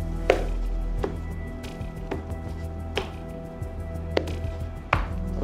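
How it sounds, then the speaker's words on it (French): A deck of playing cards being cut, a series of sharp, close card slaps and snaps spaced irregularly, about seven distinct hits over a steady low background hum, no talking. "Donc le spectateur commence par couper le jeu."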